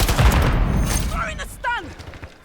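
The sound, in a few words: Semtex grenade explosion in a video game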